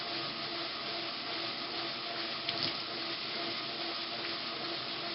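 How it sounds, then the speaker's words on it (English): Soapy water splashing and trickling onto wet felt during wet feltmaking, a steady watery hiss with light sloshing, close and continuous with one brief louder splash midway. "I'm going to add a little more of the soapy water."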